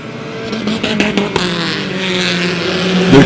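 Race cars roar past on a racing track, loud engines rising and falling as they pass close by, with sharp clicks early on and a steady engine drone that grows toward the end.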